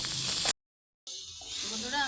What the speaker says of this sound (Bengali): আমি সবজিগুলোকে 1 মিনিটের মতো ঘি দিয়ে ভেজেছি